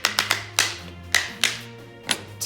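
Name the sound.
rhythm instrument scrapers clapped together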